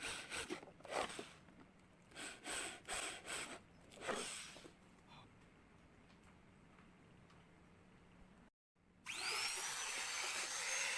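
A rotary tool enlarges the gear hole in a power-window motor mount. A few close, rough grinding bursts come first, then a gap, then a loud, high, steady whine from the tool.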